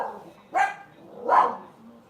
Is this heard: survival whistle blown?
no